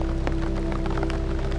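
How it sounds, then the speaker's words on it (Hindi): Heavy rain pours down on a mountain hiking trail between Rati Gali and Saral Lake, a dense, continuous hiss of drops with no voices. "लेकिन साथ ही बारिश भी बहुत तेज़ हो चुकी थी।"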